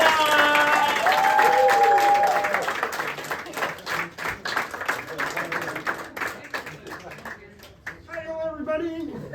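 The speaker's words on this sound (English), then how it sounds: "Can you start a round of applause going?" An audience at a stand-up comedy show at the Rik Mayall Comedy Festival breaks into applause, a sustained crackling clatter of many hands that thins toward the end, with a voice speaking over the start.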